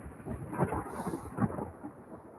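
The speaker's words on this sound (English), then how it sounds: "Oh, it's thunder, lightning. Love it." Thunder rolls through a storm in low, rumbling swells that peak twice close together, with a soft wash of rain underneath and no voices.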